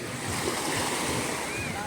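Waves and surf at Lusoy Beach Resort wash in a steady, loud roar mixed with wind buffeting the microphone, continuous through the whole stretch.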